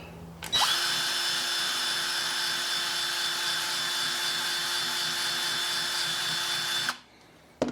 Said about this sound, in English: And now we just need to ream this out just a little bit.